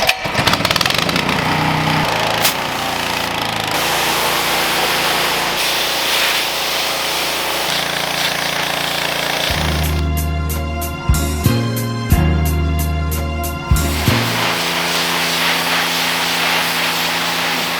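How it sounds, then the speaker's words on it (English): A pressure washer sprays tint off a car window, making a loud continuous hiss and engine drone, with a rougher pulsing stretch near the middle. "We have a pressure washer. That's what I'm thinking, because this stuff, peeling that off, one sliver at a time is gonna take forever."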